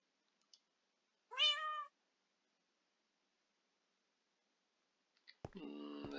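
A house cat gives one clear, rising meow at close range, followed after a quiet gap by another drawn-out meow and light clicking, faint and near.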